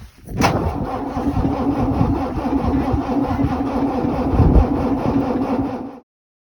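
A Unimog truck engine cranks over and over in cold weather on weak batteries, a loud steady churning drone that runs for about six seconds after a sharp start click, then cuts off abruptly.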